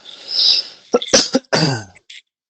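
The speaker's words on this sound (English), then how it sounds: "Excuse me, I got a bit of a cough." A close, sharp cough is followed by a quick throat-clearing rasp and a few short cough bursts, then silence.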